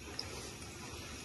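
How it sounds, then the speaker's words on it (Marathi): Water is poured steadily into a pot for cooking Maggi noodles at a roadside hotel, a soft continuous pouring wash with one brief clink near the start, no talking. "पाणी टाकतो. नीट टाक पाणी."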